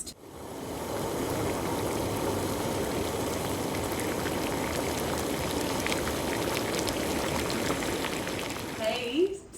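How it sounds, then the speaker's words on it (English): Bagels simmering in a pot of boiling water, a continuous bubbling, churning wash heard up close for several seconds, with a faint clink near the end. "I'm going to boil them for a minute either side"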